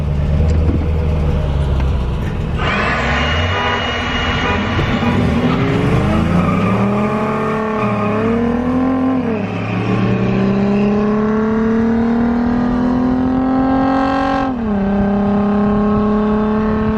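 A supercharged Toyota Tacoma pickup accelerates hard from a dig in a drag race, its engine loud and close, climbing through gears with rising whine, shifts and tire noise, no talk over it.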